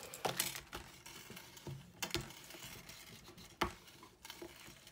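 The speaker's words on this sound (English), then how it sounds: "then I can burnish it with my bone folder from both sides" A bone folder burnishes a paper gift bag box from both sides, making faint scratchy rubbing strokes broken by several sharp taps and scrapes.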